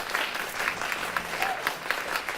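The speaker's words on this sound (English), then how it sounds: "Let's give them a round of applause." Audience applause at a League of Women Voters District 5 supervisor candidate forum, a steady round of clapping from a seated crowd lasting a couple of seconds, even and moderately loud with no voices over it.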